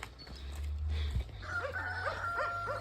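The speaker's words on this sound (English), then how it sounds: "we got dogs barking" Dogs bark in a small Romanian village, a few yips and barks in the distance alongside repeated bird calls, over a low steady rumble.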